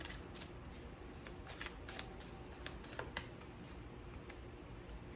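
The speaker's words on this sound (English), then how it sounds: "I've already shuffled the cards, so just giving them a quick shuffle" Soft, quick riffling of tarot cards being shuffled, with light papery taps and flicks in uneven bursts over a quiet background hiss.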